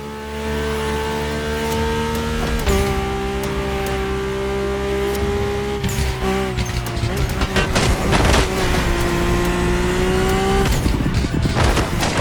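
A Mercedes-AMG One hypercar in the racing game The Crew Motorfest, its engine droning loud and close with steady harmonics, shifting pitch as it revs through gears, with a few sharp transient bursts near the end.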